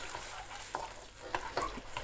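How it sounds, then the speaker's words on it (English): Garlic sizzles in a pan with curry spices while a chicken dopiaza is cooked, a steady soft frying hiss broken by a few brief stirring clatters, close and fairly quiet, with no talk. "because you really want that garlic to sizzle"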